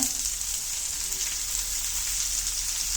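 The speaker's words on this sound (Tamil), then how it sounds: "நல்லா பூண்டு இஞ்சி பொரிஞ்சு வந்துடுச்சு" Garlic and ginger frying in hot oil for an egg gravy, a steady close hiss of sizzling that holds at an even level throughout with no voices.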